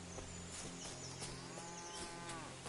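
A cow in the video game Kingdom Come Deliverance II lets out a long, close, low moo that fills the moment, set over soft outdoor ambience with no talking.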